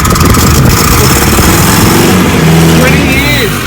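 Datsun 620 ute engine running after sitting for 20 years, a loud rough chugging rumble throughout with voices talking over it.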